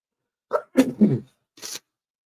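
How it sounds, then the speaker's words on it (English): A single sharp sneeze with a quick inhale before it, followed by a brief breathy exhale or sniff. "Sneeze like 3 times tonight."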